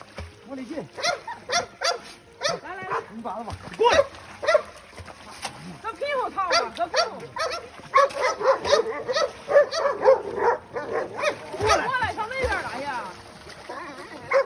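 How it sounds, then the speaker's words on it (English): A dog whimpers and yelps while stranded in an icy lake, its high, wavering cries coming in repeated bursts close to the microphone throughout. "they pulled the dog out of the icy lake with their bare hands"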